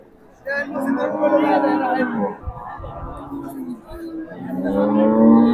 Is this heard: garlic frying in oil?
no